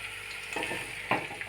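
Bitter gourd pieces frying in oil, a steady close sizzle broken by two brief scraping stir sounds; no one talks.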